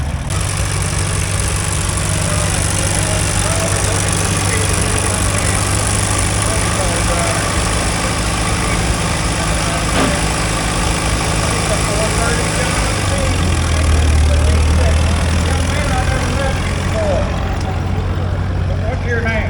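A four-cylinder vintage tractor idles steadily and close by at an outdoor tractor show, a continuous low engine rumble that shifts slightly in pitch near the end.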